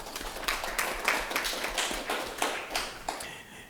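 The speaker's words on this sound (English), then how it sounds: "Big round of applause for Councillor Tidd." Scattered clapping from a small audience at a municipal council meeting, fairly faint and distant, with individual claps audible as uneven taps over a few seconds.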